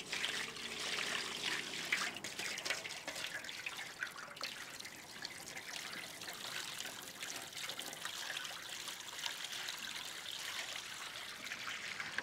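Water splashing and trickling as raw banana pieces are dropped into turmeric water for a Telugu raw banana fry, a steady close wet pouring sound with no talking.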